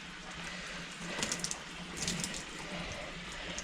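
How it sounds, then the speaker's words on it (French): Water is poured directly onto the foliage of a potted Hoya plant indoors, producing a steady close splashing patter with a few brighter drips, and no talking. "là je vais lui donner un petit coup d'eau directement sur le feuillage"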